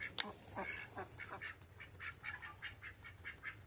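Several ducks quack in repeated, overlapping calls at a moderate distance, rising and falling in a loose rhythm.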